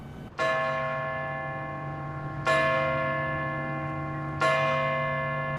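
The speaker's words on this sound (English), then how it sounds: "The bell in the Old Vanderburgh County Courthouse is ringing out once again." The bell in the tower of the Old Vanderburgh County Courthouse strikes three times at an even, slow pace, each deep, resonant toll ringing out and fading under the next, heard clearly from a distance with no voices.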